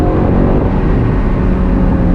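A Ferrari California's V8 engine, a loud, steady, deep rumble held close for a couple of seconds.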